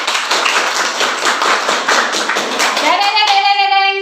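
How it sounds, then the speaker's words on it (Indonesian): A class of students claps together in a classroom, brisk close clapping for about three seconds, then a voice begins speaking as the claps stop. "tepuk tangan untuk kalian semua"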